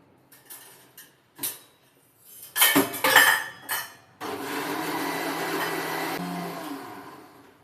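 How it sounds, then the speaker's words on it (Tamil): Tomatoes whirred in a mixer grinder for a Tamil tomato thokku: a few dish clinks and clatters, then a loud, steady grinding roar for about three seconds before it winds down. "தக்காளியை அரைச்சி எடுத்துக்கலாம்."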